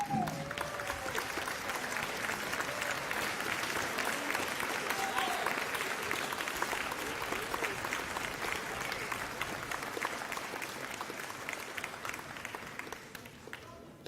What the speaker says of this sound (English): could all the parents and the faculty and staff of both schools stand up so we can give them a round of applause